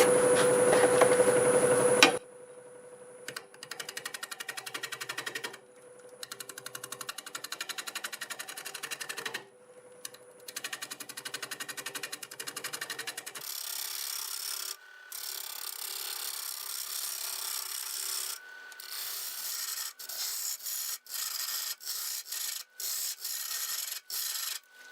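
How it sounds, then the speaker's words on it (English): A 5/8-inch bowl gouge cuts mesquite spinning at about 720 RPM on a wood lathe, giving a steady close scraping and rasping broken by brief pauses, with a higher hiss once the cut lightens. "Doing about 720 RPM, and that's a 5/8 bowl gouge."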